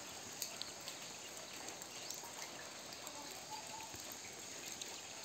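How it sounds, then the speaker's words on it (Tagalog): Morning rain falling on a rural hillside village, a faint, steady hiss of drops with a few louder patters landing on nearby surfaces, heard alone at low level throughout. "Kita natin ang ulan ngayong umaga."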